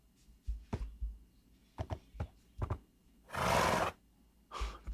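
Horse neighing and whinnying in Minecraft, several short bursts and one longer noisy whinny, fairly close with no talk over them.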